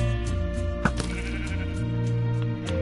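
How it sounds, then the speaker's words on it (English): Minecraft sheep bleat in short, repeated calls over a sustained background game tone, close and clear. "You shoot the sheep."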